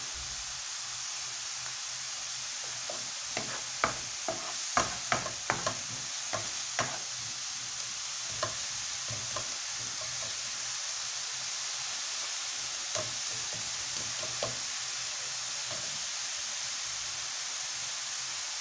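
A pan simmers and sizzles steadily, with a few clinks of a utensil stirring near the start and occasional soft taps.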